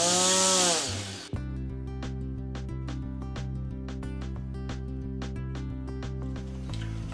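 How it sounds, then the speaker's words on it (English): A power tool trimming the foam nose of an RC airplane comes in as a sudden loud, steady buzzing whine after a brief higher-pitched noise, running close and continuous with a rhythmic pulse, then shifting at the end. "I'm just going to cut off about 1/4 inch off the nose."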